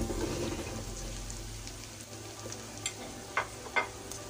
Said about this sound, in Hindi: भिंडी को भूनेंगे